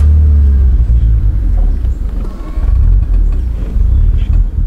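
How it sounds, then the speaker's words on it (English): A budget project car's engine idles roughly and unevenly, loud and close, its deep rumble sagging and surging as if about to stall, with occasional misfire-like stumbles throughout. "you can see how that idle just dropped down, almost stalled"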